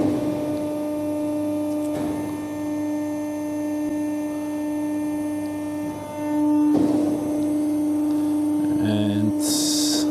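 An NC plate roller running in automatic mode gives off a steady electrical hum with tonal whine, a brief surge of machine noise partway through and a short beeping signal near the end.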